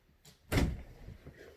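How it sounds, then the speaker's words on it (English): A dog opens a bedroom door with a soft click, then a louder thud as the door swings, followed by faint light shuffling in a quiet room without talk. "My dog opened my bedroom door."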